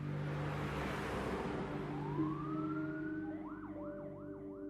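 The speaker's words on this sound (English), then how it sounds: "The ambulance arrived and paramedics took over for the doctor" An ambulance siren wails as the vehicle speeds to hospital, starting with a rising tone, then repeated up-and-down sweeps over a broadband engine and road rumble, fairly loud and close.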